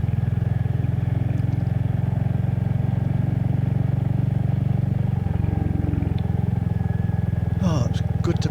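A motorcycle rides along on an autumn morning, its engine a steady, loud, low drone throughout with a brief dip in tone partway through, and a faint clatter near the end.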